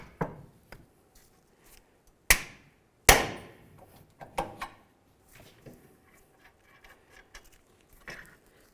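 A hammer strikes a pickle fork to pop a ball joint loose on a Honda CR-V's front lower control arm, with a few sharp metallic blows, two especially loud, scattered among lighter taps and clinks of tools.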